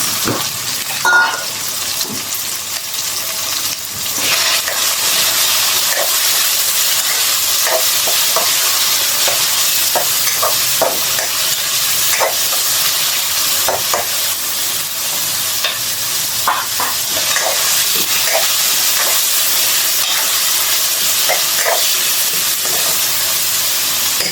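Chicken and shrimp stir-fry in a wok with a loud, continuous sizzle and hiss, punctuated by scraping stirring strokes, with no voices.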